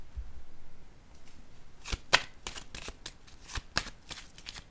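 Tarot cards being shuffled and laid down, a run of crisp papery riffles and snaps, some sharp flicks standing out, close and fairly quiet with no talking.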